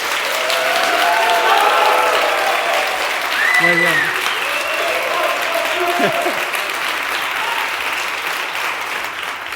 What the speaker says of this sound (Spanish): Más de 5 años hemos tardado en poder escuchar un aplauso en Aerovía.